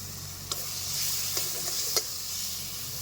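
Ground ginger, garlic and green chili paste with chopped tomato frying in a pan, a steady close sizzle broken by a few sharp spoon scrapes, no talking.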